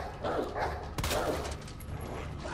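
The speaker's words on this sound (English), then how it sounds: "There's dogs over there." Zombie dogs barking in the video game Resident Evil 2, a few loud, harsh barks in quick succession over a steady game ambience.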